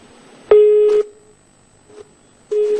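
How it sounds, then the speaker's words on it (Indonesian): Short, loud tone bursts of a telephone busy signal repeat at a steady interval after a dropped phone connection during a live TV news call, sounding alone with no voices. "sambungan telepon dengan kontributor Metro TV M. Rizky terputus"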